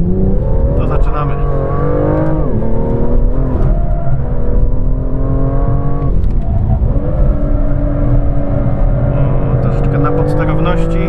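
A BMW M2 is driven hard on a wet, slippery race track, its engine loud and close from inside the cabin, rising and falling in pitch as it revs and shifts, and someone talks over it.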